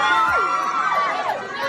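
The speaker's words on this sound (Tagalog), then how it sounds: "Sigawan mga kababayan." A brief, loud burst of crowd shouting and cheering at a political rally, with many voices overlapping in a dense roar.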